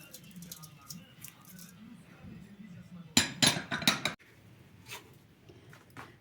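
Clinking and scraping of a utensil against a pot or dish as salt, spices and carrot are stirred together for pumpkin pilaf, a burst of close metallic clatter after a quiet stretch, with faint kitchen noise around it.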